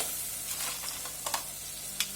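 Crab pieces frying in oil in a pan for Tamil crab curry, a soft continuous sizzle with a few sharp spatters and stirring scrapes, quiet and close, with no voices.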